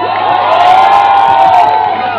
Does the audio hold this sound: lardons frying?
no